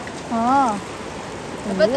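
Heavy rain pours down in Oman as a steady, close hiss, with a voice speaking over it briefly.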